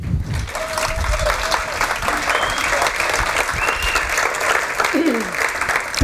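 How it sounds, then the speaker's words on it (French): A theatre audience at a stage show claps loudly and continuously, dense applause filling the hall from start to finish, with a voice heard briefly over it. "Je compte sur vous pour applaudir très très fort Peggy Le Guen."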